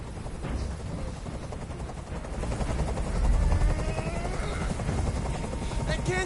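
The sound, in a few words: helicopter in the video game Detroit: Become Human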